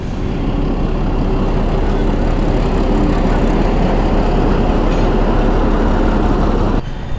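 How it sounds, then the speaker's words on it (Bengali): A loud, steady low rumble of a Dhaka-to-Narayanganj train rolling past nearby, with a constant rattling roar that cuts off abruptly near the end. "ঢাকা থেকে নারায়ণগঞ্জের ট্রেন।"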